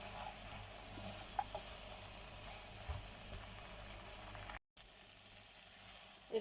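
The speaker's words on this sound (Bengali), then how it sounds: "পানি ছাড়াই কলিজাটাকে মশলার সাথে ভালো করে কষিয়ে নিচ্ছি" Beef or chicken liver? No: liver fries dry in a pan with chili and turmeric powder, salt, and ginger-garlic-cumin paste, giving a faint, steady sizzle that runs quietly and unbroken, with one brief gap.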